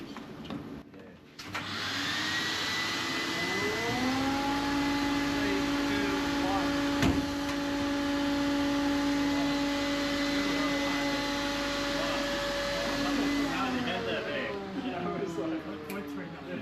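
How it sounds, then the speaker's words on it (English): A belt sander running a 60 grit belt at 8 m/s makes a loud, steady whine and roar that holds for about ten seconds. It spins up at the start and winds down near the end. "this use a 60 grit sand belt running at 8 meters per second"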